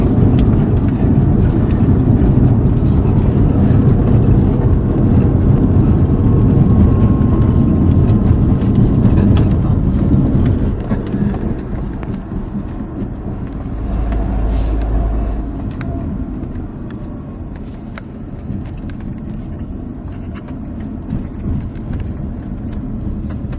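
A car rolls along a bumpy concrete-over-rock road in Pretoria, giving a loud continuous low rumble of engine and tire noise that thins out partway through.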